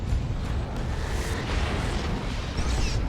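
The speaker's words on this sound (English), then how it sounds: "More plasma cannon hits." Plasma cannon hits in a Dawn of War 2 3v3 battle, a dense rumbling barrage of booming low-end impacts and bursts that carries steadily through the whole stretch with no pause.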